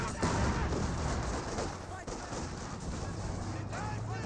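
Heavy DShK machine gun in a Company of Heroes 2 battle, rapid sustained bursts of gunfire loud and continuous amid other distant weapons fire and explosions, with faint voices underneath.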